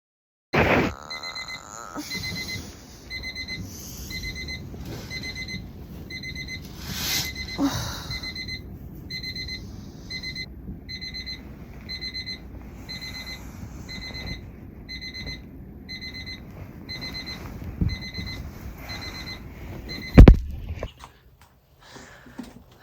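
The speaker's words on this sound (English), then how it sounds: "hearing that alarm gives me the shivers" An alarm clock beeps in a rapid, steady repeating pattern for a long stretch, then stops abruptly after a clatter.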